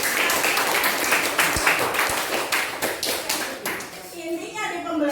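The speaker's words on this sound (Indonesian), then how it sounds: "tepuk tangan untuk" Classroom applause, a lively scatter of individual claps and taps from students with a few loud close hits, fading out as a voice speaks at the end.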